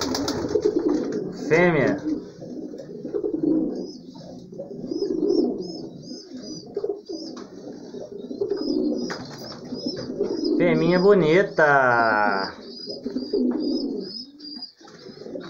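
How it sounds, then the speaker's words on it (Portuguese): Pigeons visiting a house in the late afternoon coo in repeated soft rolling calls throughout, with a few chirps and wingbeats, while someone talks over them nearby. "Aí uma pomba aí que tá de visita aqui em casa"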